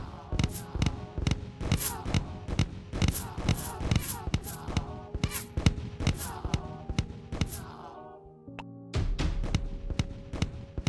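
Rapid series of bomb blasts and thuds from the tower-defense game Tower Alchemist, dense repeated impacts over game music, then a brief lull and a few tonal game sounds near the end.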